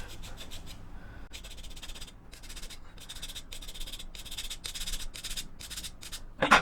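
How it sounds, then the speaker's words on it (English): Triangular file stroking across the metal of a DJH LNER Pacific model locomotive kit, a steady series of close, rasping strokes with brief pauses between them, ending in a sharper scrape. "It's still quite a big file, but it's a finer cut."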